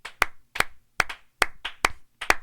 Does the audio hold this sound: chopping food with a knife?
no